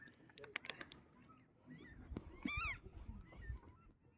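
Geese honk a few times at close range, with a loud nasal call near the middle, amid scattered clatter and background noise.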